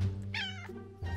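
An indoor cat wanting a treat lets out one short, close meow that rises and falls within a second, set against faint room background.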